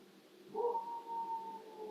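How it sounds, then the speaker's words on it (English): A dog howls in a long, wavering, steady tone that starts suddenly and holds for over a second, set against quiet background hiss in a gloomy forest setting. "there's the dog howling again"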